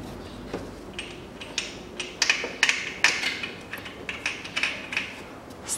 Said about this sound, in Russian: Прикручиваю и затягиваю верхние болты,